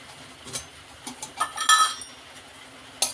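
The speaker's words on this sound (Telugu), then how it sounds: "స్టవ్ మీద కడాయి పెట్టుకొని స్టవ్ ఆన్ చేసుకోండి" A kadai set down on a stovetop gives a few light metallic clinks and knocks, scattered over about three seconds with quiet gaps between them.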